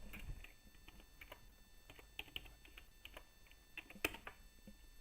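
Quiet computer keyboard typing, irregular soft key clicks in short bursts across the stretch, with one sharper click near the end; no voices.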